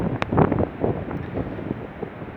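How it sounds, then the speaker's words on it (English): Gusty wind buffets a microphone on an outdoor hiking trail, a loud continuous rumbling roar that swells and eases, with no voices. "A bit of a windy day"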